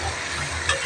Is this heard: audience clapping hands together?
no